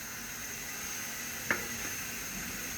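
Tomatoes sizzle in a hot pan with bitter gourd, a soft steady frying hiss at close range with one brief sharper crackle midway.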